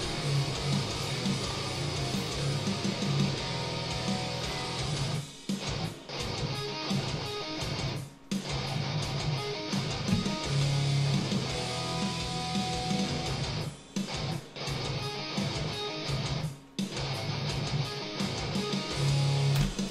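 Dense, sustained double-tracked electric guitars panned left and right, tuned down for a heavy rock part, playing continuously with brief choppy gaps and no voices.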